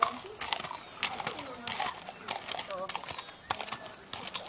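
A horse walks up a hill, its hooves making soft, steady clip-clop beats close by, partly under people talking.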